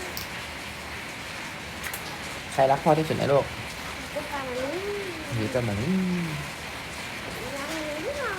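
A continuous wash of heavy rainfall fills the background while family members talk and sing-song over it, their voices rising above the steady patter.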